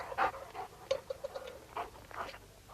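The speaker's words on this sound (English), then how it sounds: "The dogs." Dogs panting and whimpering close by in short irregular bursts, fairly faint, with no voices.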